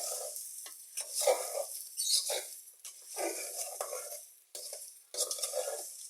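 Spices stirred and fried in mustard oil in a pan for homemade olive pickle, with repeated scraping stirs over a steady close sizzle, the strokes coming in short bursts with brief pauses.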